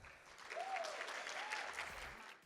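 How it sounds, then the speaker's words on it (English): Faint, distant applause from a summit audience of nurses and allied health professionals, a soft, even patter of clapping that holds for a couple of seconds before fading. "I just want to give everyone have everyone give them a round of applause"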